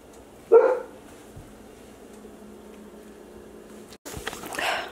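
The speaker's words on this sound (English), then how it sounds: "Oh, of course Avery's barking." A pet dog gives one sharp bark in a home kitchen, fairly close and loud, followed by quiet room tone and then some rustling movement near the end.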